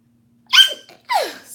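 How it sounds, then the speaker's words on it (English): A single close, loud human sneeze: a sharp intake followed by a burst, then a brief second expulsion, alone in otherwise quiet indoor air. "I gotta sneeze."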